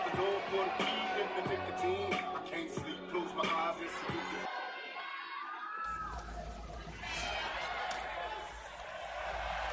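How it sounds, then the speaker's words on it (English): Arena crowd noise at a professional wrestling show, loud and continuous throughout, with cheers and shouts that briefly thin out midway before swelling again under what sounds like speech. "What a crowd."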